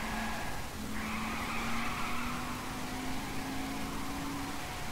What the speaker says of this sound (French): Genre je peux rouler comme ça en dérapant.